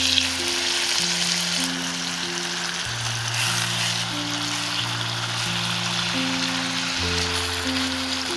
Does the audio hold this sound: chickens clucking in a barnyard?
no